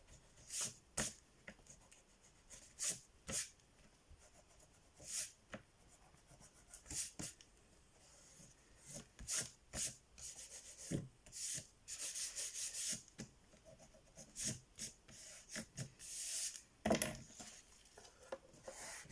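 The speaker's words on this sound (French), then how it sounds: "On reprend la gomme pour enlever l'excédent de colle." An eraser rubs off excess glue on a paper craft page, giving quiet, close, short scrubbing strokes in irregular bursts with no talk.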